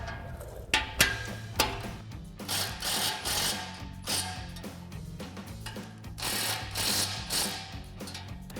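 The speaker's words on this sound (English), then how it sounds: "we can take a 15mm socket and a 15mm wrench to tighten these down" A 15mm socket and wrench tighten nuts with lock washers on a Jeep Gladiator XRS overland rack, giving close, quiet ratcheting clicks in irregular bursts with metallic knocks between them and no talking.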